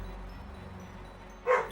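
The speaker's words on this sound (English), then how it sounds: "I don't know what Gobi's barking at down there." A dog named Gobi gives a single short bark from downstairs, distant and muffled, breaking through an otherwise quiet room hum near the end.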